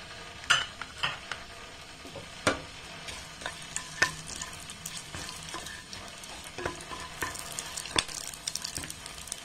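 Whole bay leaf, star anise, cinnamon, cloves and cardamom sautéing in hot oil for a chicken biryani, a steady close sizzle broken by sharp clicks and scrapes of stirring, with no voices.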